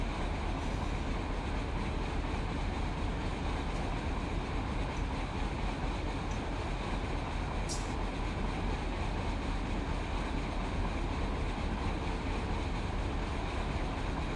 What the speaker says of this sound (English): This is our Z train coming up.